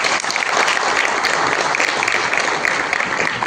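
Dense, sustained applause from a crowd at a political gathering in Solapur, loud and close, many hands clapping together without letup for a few seconds.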